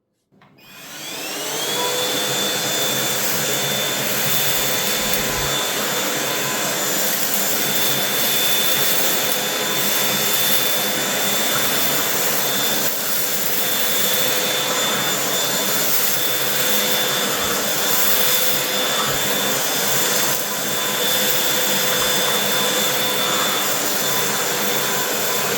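A Grundig 2-in-1 cordless stick vacuum cleaner, model VCH 9832, spins up from silence within a second into a loud, steady high-pitched motor whine and airflow roar that holds unbroken for the rest of the stretch, with no talking.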